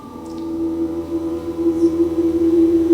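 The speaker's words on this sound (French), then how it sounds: "Ça, c'est le son de 12 étoiles" Sonified sound of twelve stars with all their harmonics, a dense sustained hum of stacked steady tones that slowly swells and wavers in loudness, with a faint high chirp near the start.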